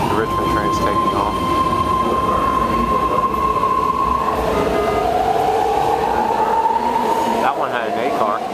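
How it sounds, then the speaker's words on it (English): A four-car BART Richmond train pulls out of an underground station, its wheels giving a loud rising whine and a steady rumble of rail noise that fills the whole stretch. "The Richmond train is taking off."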